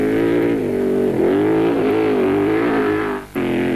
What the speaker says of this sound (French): est à l'attaque dans toutes les courbes, plein gaz, sans la moindre hésitation.